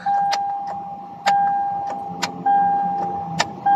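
A 2009 Toyota Sequoia with a no-crank fault: several short clicks and tonal chimes repeat while the key is turned, and there is no starter motor cranking or engine catching, only quiet interior sounds between the clicks.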